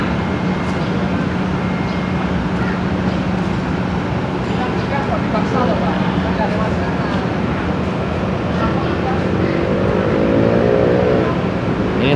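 Volvo Jetbus 3 double-decker bus on a Volvo chassis idles at a bus terminal, a steady loud low engine rumble filling the whole stretch, with a brief rising tonal whine near the end.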